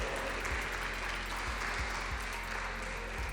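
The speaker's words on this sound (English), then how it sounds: "can we please have one more round of applause for clawz?" Steady applause from an esports tournament crowd at the Italian eSports Open, a dense even patter of clapping that holds at the same level throughout, with a few low thumps underneath.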